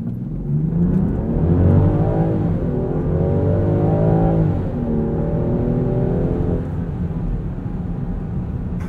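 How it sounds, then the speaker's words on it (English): A 2020 Land Rover Defender 110 SE accelerates hard from a roll toward 60 mph. The loud engine note climbs steadily with gear changes, heard from inside the cabin. "let's see what we can do with a 0 to 60. Just roll into the throttle here."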